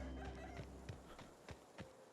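A chicken in The Outer Worlds gives a few soft, short clucks spaced about a third of a second apart over a faint ambient hum, quiet and somewhat distant.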